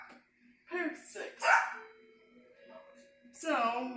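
Nearby dog barks in a few quick bursts, sharp and fairly loud, with a lull of quieter sound between them and a faint constant hum underneath.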